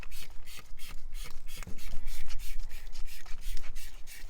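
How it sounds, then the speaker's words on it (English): An all-purpose scrub brush scrubbing an AC condenser pan, quick rhythmic rasping strokes up close, repeated back and forth with short pauses. "you can get in there and scrub it with an all-purpose scrub brush"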